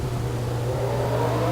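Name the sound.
race cars rolling off, from a racing video game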